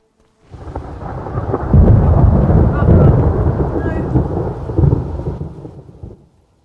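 A loud thunderstorm with heavy rain in Morrowind, a deep rolling thunder rumble swelling and fading over a continuous rain wash, close and dominant with no talking.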